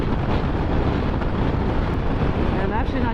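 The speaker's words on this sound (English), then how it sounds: "Still crazy windy." Strong wind roars steadily into the microphone on a Triumph Tiger 900 GT motorcycle riding west on I-40. The buffeting is loud and constant, with the engine and road noise buried beneath it.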